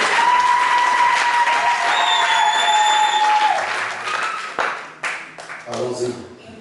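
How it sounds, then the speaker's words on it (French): A church congregation at a praise and worship service bursts into loud, sustained applause and acclamation, steady and close for about three and a half seconds before trailing off into scattered claps and voices. "Acclamez le Seigneur Jésus-Christ."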